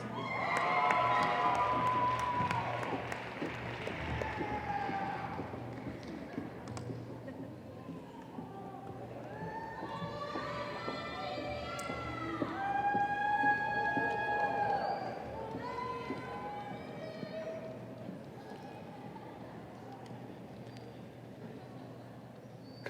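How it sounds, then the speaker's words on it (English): Audience at a fall 2010 college commencement clapping and cheering for a group of graduates, a steady broad wash of applause with scattered shouts and voices throughout, swelling briefly near the middle. "Let's all applaud for this group."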